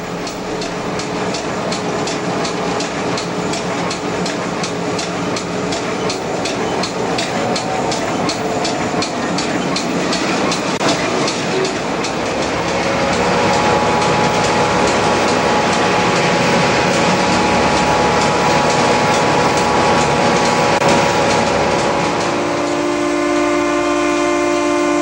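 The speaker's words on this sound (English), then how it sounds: "Extra 944 East departs Bishop's Falls and crosses the Exploits River." A Newfoundland Railway train, Extra 944 East, rumbles across the long Exploits River bridge near Bishop's Falls, with a steady rolling clatter of wheels that swells in the second half and a whistle-like tone near the end.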